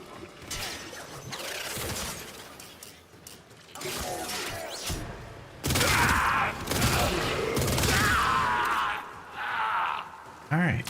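Enemy gunfire in Warframe, loud volleys coming in several bursts with crashing, shattering impacts between them, and a voice talking over parts of it.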